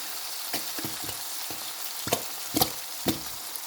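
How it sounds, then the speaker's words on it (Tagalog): Sardines sautéing with tomato, garlic and onion in a hot pan, a steady bright sizzle broken by repeated scraping stirs of a utensil, close and clear with no talk. "magluluto tayo ng ginisang sardinas na may kamatis, bawang at saka sibuyas"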